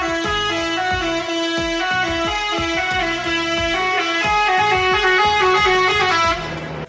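A toy bus's horn plays a loud, repeated electronic melody of rapid tonal honks, steady and close throughout, with no voices.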